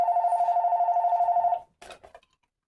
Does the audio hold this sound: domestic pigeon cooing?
no